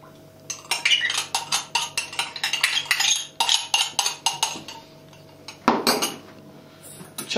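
Fork clinking steadily against a bowl while mixing oil and yogurt for cheese börek, a quick run of close metallic scrapes and taps with a short pause near the end, no talking.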